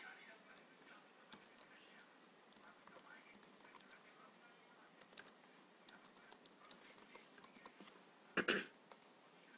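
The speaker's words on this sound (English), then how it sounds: "And then you type in your password." A password goes in on a computer keyboard as a quiet run of light key clicks, irregular and soft, over a faint background hiss, ending in a brief louder burst near the close.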